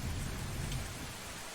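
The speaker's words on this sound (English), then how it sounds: "I hear the muffled sounds of thunder fading above as I feel the rain falling mercilessly on my body" Steady heavy rain pours in a stormy video game scene, with a low, muffled rumble of distant thunder rolling underneath the constant hiss.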